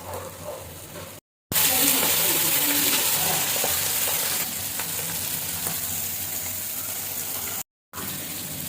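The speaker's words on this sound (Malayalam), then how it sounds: "അപ്പോൾ ഇത് ഇതേ രീതിയിൽ നമുക്ക് ഫ്രൈ ആക്കി എടുക്കാം മുഴുവനായിട്ട് കല്ലുമ്മക്കായ" Spicy masala-coated mussels sizzle and fry in a pan, a loud steady hiss that fills the clip between two brief silent cuts, with faint stirring underneath.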